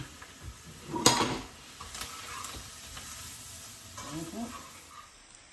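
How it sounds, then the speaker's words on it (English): Flour browning in hot oil in a pan for gravy, a soft steady sizzle with a few scraping stirs and one sharp clink of a utensil against the pan, fairly quiet overall. "Then I want to stir it just to brown it a little bit."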